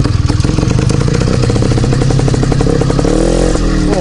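An IZh Planeta 5 motorcycle engine runs close by with a rapid, rattling putter that holds steady and then revs up briefly near the end.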